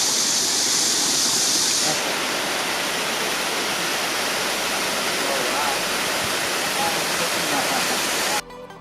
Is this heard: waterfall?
yes